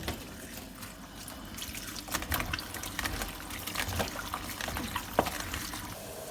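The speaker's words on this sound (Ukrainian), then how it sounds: "тепер миємо синенькі." Running water splashes steadily with scattered clinks and knocks as eggplants are rinsed under a tap, with no talking.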